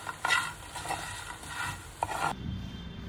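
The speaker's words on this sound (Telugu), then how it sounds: "స్టవ్ బంద్ చేసి వేగినటువంటి బంగాళదుంపలు వేసి ఒకసారి కలుపుకోవాలి" Fried potatoes stirred into a pan on a switched-off stove make repeated close scraping strokes over a soft sizzle, then the stirring stops and only a low hiss is left. No one speaks.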